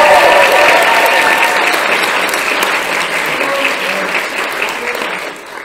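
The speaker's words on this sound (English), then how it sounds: "Can we give them a round of applause?" An audience at an inaugural lecture applauding a choir, dense sustained clapping close and loud that slowly fades out over several seconds.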